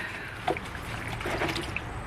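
Small amounts of water trickle and dribble while a t-shirt is wetted for Dollar Tree tie-dye, soft close splashes and drips scattered over a quiet, steady background with no talking.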